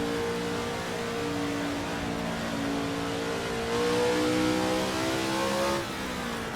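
Racing car engine in a driving video game set at the 1967 South African Grand Prix, revving loud and steady with pitch rising and falling through gear changes, no talk.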